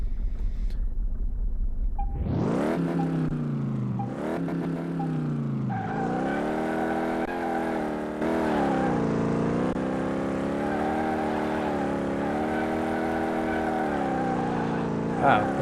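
A 1932 Ford in Car Mechanic Simulator 18 starts up and revs hard while drifting, its engine rising and falling in pitch through several surges, loud and continuous; a voice speaks over it near the start.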